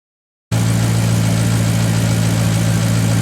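After half a second of silence, a Maserati GranTurismo engine starts idling loud and close during warm-up while its coolant is being changed, holding a steady, even low hum with no talk.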